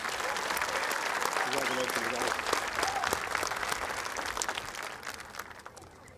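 Sustained applause from a high school graduation audience in Falfurrias honoring the top ten seniors of the class of 2026, a dense wash of clapping that holds steady and then tapers slightly near the end, with faint voices mixed in.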